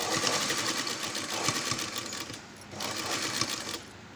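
A sewing machine stitches lace onto a pot-neck blouse with a loud, close, rapid mechanical whirr, pausing briefly partway through before running again and then easing off at the end.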